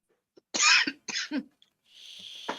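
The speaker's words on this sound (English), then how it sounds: "Why is it making me cough?" A couple of harsh, breathy coughs in quick succession, close and fairly loud, followed by a faint hiss of background noise.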